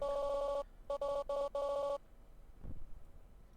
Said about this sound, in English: Cell phone rings with a different voice answering.